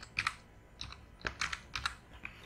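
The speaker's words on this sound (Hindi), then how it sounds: "इसमें मैं कुछ भी मैसेज टाइप कर दे रहा हूँ," Keys clatter on a computer keyboard as a message is typed, a handful of quiet, close, irregular clicks spread across a couple of seconds, with no voices.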